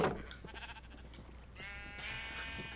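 A Minecraft sheep bleats once, a nasal wavering bleat near the end over faint game sounds and clicks.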